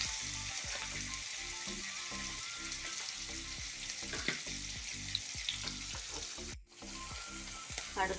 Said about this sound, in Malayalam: മീൻ ഫ്രൈ ആയി വന്നിട്ടുണ്ട്.